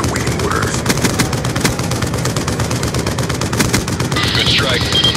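A lethal warship strike in the video game Call of Duty Black Ops delivers loud, rapid sustained gunfire, a dense rattling barrage with brief radio-like chatter in the background.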